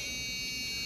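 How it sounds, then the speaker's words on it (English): A buzzer on a Raspberry Pi theremin gives one short, steady, high-pitched electronic tone, faint and heard alone. "We know the buzzer works."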